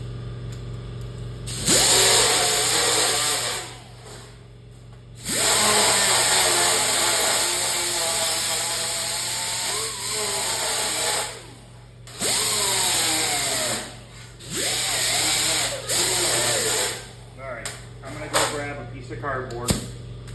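Power tool fitted with a disc stripping rust from the metal plates and carriage of an arcade machine: loud whining bursts of several seconds, each pitch sagging as the disc bites, separated by short pauses, over a steady low hum.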